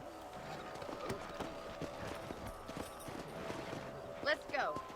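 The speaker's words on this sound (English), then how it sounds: "Get on my horse." Horse hooves clip-clopping at a trot in the video game Red Dead Redemption, steady rhythmic thuds under quiet game ambience, with a short horse whinny near the end.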